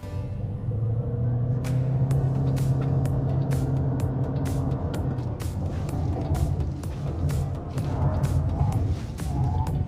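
A GWM Ora 5 Hybrid SUV is driven hard through a moose test, giving a steady, close road and drivetrain rumble with a regular series of sharp ticks over the top throughout.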